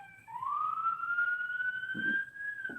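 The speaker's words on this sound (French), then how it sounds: "Alors, on est vraiment à New York avec les sirènes." A police siren on a New York street rises in one long wail, fairly close and loud, and a voice speaks briefly near the end.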